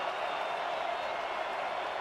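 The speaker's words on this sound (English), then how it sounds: "The home crowd erupts in cheers as the Steamers will take over at midfield." Home crowd cheering at a football game as the visiting side loses a fumble at midfield, a steady loud roar of cheers and applause filling the stadium without a break.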